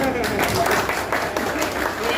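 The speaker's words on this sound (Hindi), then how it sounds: "एक बार जोरदार तालियां।" A crowd at a poetry recital applauds loudly, a thick continuous clatter of clapping with voices mixed in.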